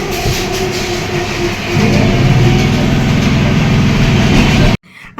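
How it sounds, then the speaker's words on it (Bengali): A train pulls into a station, its loud, close rumble swelling at about two seconds into a steady heavy roll with wheel clatter, then cutting off abruptly near the end; no voices. "এখানে আমাদের ট্রেন চলে এসছে"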